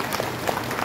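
Short burst of steady applause from an audience at a tennis event honoring invited top student players from Gyeonggi Province, even clapping texture throughout with no talk.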